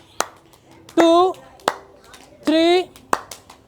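A group claps hands in unison during an outdoor yoga session at Rajkiya Udyan Jawahar Park, Aligarh: three sharp, evenly spaced claps alternate with a voice counting aloud.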